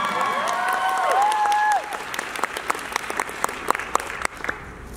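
An anime convention audience breaks into applause, a burst of clapping that thins into scattered claps, with a brief tonal sound at the start.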